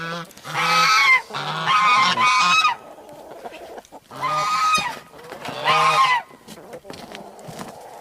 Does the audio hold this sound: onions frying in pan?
no